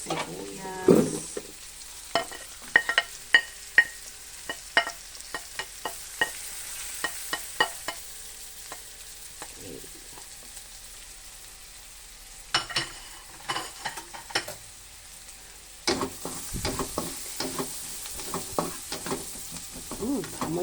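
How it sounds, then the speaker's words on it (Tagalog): Garlic and onion sautéing in a pan for buttered paella, a quiet frying sizzle broken by sharp scraping and clinking stirring strokes, with louder, busier stirring near the end. "Satayin lang natin ang ating bawang sibuyas."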